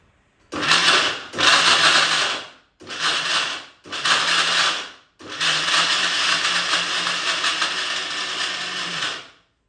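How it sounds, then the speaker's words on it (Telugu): A kitchen mixer grinder pulverizes urad dal and cardamom into powder in four short loud bursts, then one longer continuous grinding run. "అదిగోండి అలా మిక్సీ పట్టుకోవాలి"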